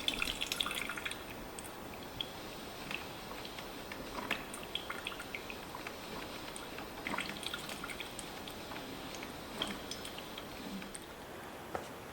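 Electric coffee pot on a farm running off battery power, brewing with soft, irregular drips and faint ticking of coffee falling into the pot, quiet and close with no talking.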